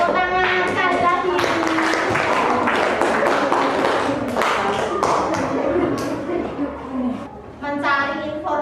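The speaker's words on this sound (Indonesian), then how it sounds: "Ya, tepuk tangan sekali lagi." Children in an Indonesian classroom clap together for classmates, a loud, dense burst of hands mixed with shouting and voices, thinning briefly near the end before picking up again.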